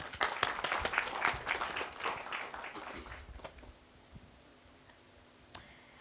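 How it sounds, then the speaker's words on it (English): A round of applause from the audience at a live Kenyan youth debate, dense clapping for about three seconds that thins out into scattered claps and ticks, then fades to near silence. "A round of applause."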